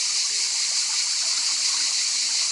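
A small park stream spills over little cascades along its course, a steady, close, bright rushing of water with no voices.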